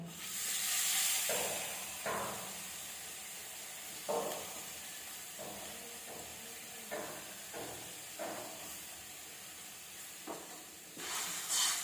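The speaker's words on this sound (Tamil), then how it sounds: "இது கூட வந்து இந்த தழையும் இது கூட போட்டு சேர்த்துக்கு ஒரு வதக்கிக்குவோம்" Vathanarayanan leaves sautéing in a pan for rasam, a quiet sizzle and hiss with intermittent soft stirring scrapes throughout, no talking.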